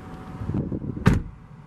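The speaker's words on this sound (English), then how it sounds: "Go ahead and close the door." A 2017 Chevrolet Traverse LT AWD door swings shut with one solid, close-up thump about halfway through, set against a low steady rumble.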